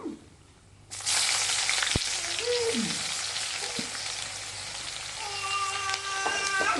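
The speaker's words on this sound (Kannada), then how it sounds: "ಉಳ್ಳಾಗಡ್ಡಿ ಚೆನ್ನಾಗಿ ಫ್ರೈ ಆಗಬೇಕು" Onions hitting hot oil for chapati upma: after a quiet opening, a sudden loud sizzle bursts in and holds steady and close, with a couple of utensil knocks, and a faint voice appears near the end.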